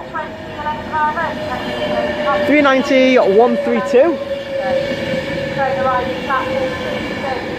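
A Virgin passenger train bound from Glasgow to London Euston pulls into Birmingham International on the West Coast Main Line, with a loud rumble, a steady tonal whine and brief squealing wheels, while people talk and an announcement plays.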